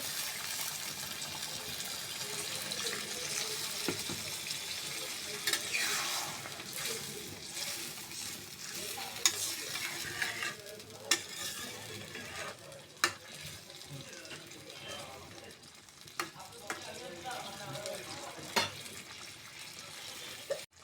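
Spicy snakehead fish curry bhuna frying in a pan, a steady soft sizzle with scraping stirs and occasional clinks, close and moderately quiet, with faint background running water.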